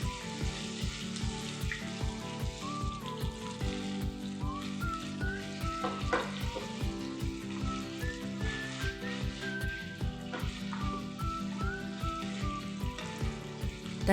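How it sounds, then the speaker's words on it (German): Chicken sizzles and crackles steadily in a hot pan with oil, a continuous frying hiss under a rhythmic musical backing. "Ein Schuss Öl in die heiße Pfanne, das Hähnchenfleisch braten,"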